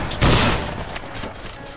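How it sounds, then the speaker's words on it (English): Musket volley fired in the video game Battle Grounds III during a linebattle: one loud, dense crackling burst of many shots at once, followed by a rolling echo that fades out. "Make ready, take aim, fire, right face."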